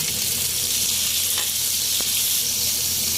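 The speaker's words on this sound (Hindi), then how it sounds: "यहाँ देखिए प्याज हमारी फ्राई हो रही है और काफ़ी हद तक ब्राउन हो गई है" Chopped onion frying in a pan for keema, giving a steady loud sizzle and hiss close up, with a couple of brief clicks of the spoon and no voices.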